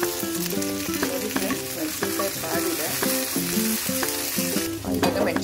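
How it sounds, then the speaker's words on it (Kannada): Sliced onions fry in oil in a pan for egg biryani, a continuous sizzle with stirring scrapes heard under prominent background music. "ಇವಾಗ ಆನಿಯನ್ ಒಂಚೂರು ಟ್ರಾನ್ಸ್ಪರೆಂಟ್ ಕಲರ್ ಬರೋವರೆಗೂ ಫ್ರೈ ಮಾಡ್ಕೋಬೇಕು"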